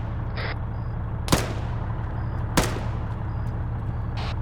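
Two sharp, loud gunshots from a first-person shooter game ring out about a second apart, over a steady low engine-like hum and quieter background game sounds.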